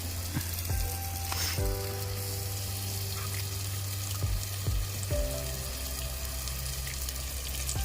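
Chicken pieces, including leg pieces, going into a pan of fried tomatoes for a village-style chicken curry, with a steady loud sizzle and frying crackle throughout and a few stirring clatters.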